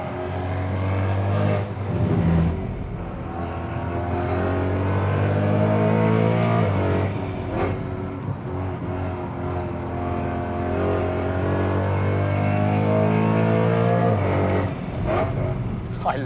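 BMW E92 M3 engine revs and accelerates on the Nürburgring, a loud, close, sustained roar rising and falling through gear changes, with brief lifts between pulls.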